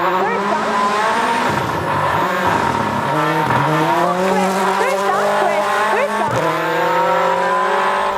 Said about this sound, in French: Levac et Lewis doivent ramener la voiture à bon port.